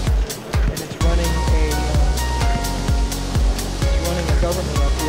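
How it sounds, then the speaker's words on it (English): Water-powered horizontal steam engine model runs with a steady, rhythmic mechanical chugging and repeated knocks, heard up close under a constant wash of running water. "This is what's called a horizontal steam engine."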